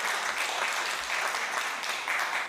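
Clapping from the audience at a Hindi comic poetry gathering, a moderately loud, steady patter of many hands with slight surges, lasting only a couple of seconds.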